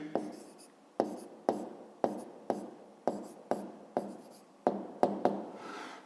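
A pen writes numbers by hand on paper, short scratchy strokes in quick bursts, about a dozen separate strokes in a loose rhythm, quiet and close.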